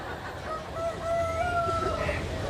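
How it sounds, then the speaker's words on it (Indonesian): A rooster crows once in a drawn-out call, heard somewhat distant over a steady background hum. "Itu suara ayam beneran atau handphone?"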